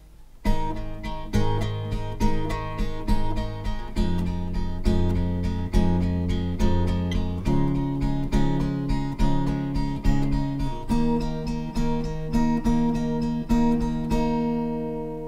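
An acoustic guitar strummed through the slow verse chord progression of a song, each change ringing out clearly and steadily with no voices.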